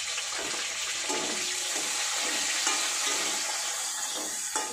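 Tomato and bay leaves drop into hot oil in a kadai, giving a dense, steady hiss of sizzling that stays close and fairly loud throughout, with no voices.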